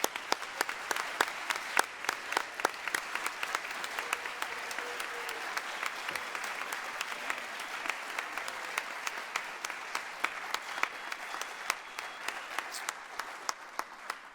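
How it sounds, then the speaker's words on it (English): A school cum laude induction ceremony audience applauds steadily with dense, sustained clapping throughout, mid-distance and filling the room, with a few sharper claps standing out. "Let's give one more round of applause"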